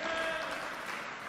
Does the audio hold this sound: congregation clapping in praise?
yes